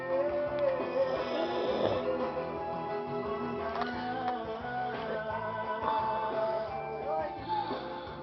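A person snoring inside a car, a steady continuous rasp of breathing under a dense background, with no voices.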